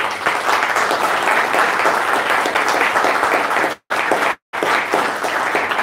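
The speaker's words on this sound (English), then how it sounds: "Round of applause for them." Applause for two presenters at an evening tasting, a loud, steady wash of clapping from a room of guests that continues throughout with two brief dropouts near the end.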